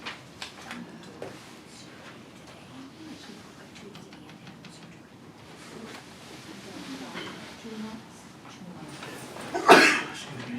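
A sneeze in a town council meeting room, a single short sharp burst near the end that rises above quiet background murmur and scattered speech.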